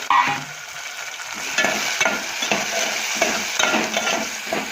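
Onion and tomato sizzle and fry in a pan for a dry potato curry, with a steady hiss broken by repeated scraping stir strokes, close and fairly loud, no talking.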